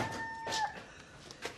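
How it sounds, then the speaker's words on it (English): Chickens squawk and cluck in short bursts, with one higher drawn-out call, close by and fairly loud. "The chickens are crazy."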